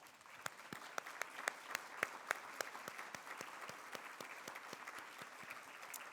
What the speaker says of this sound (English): Board members, if you could each stand for a round of applause from our membership.